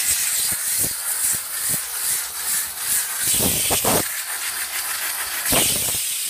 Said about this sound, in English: that's gonna be real quick work with the brush and the steam itself